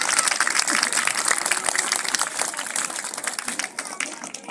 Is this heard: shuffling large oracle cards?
no